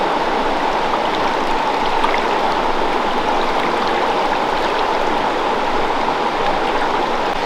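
A river in the Smoky Mountains flows in a loud, steady, unbroken rush of water with no pauses or voices, close to the listener.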